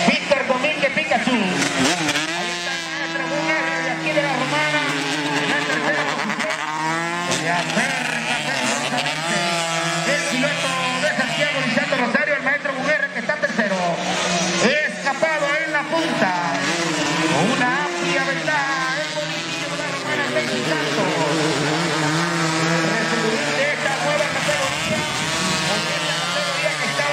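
135cc racing motorcycles roar during a championship race, their engines rising and falling in repeated revving sweeps throughout, heard under a continuous announcer's commentary.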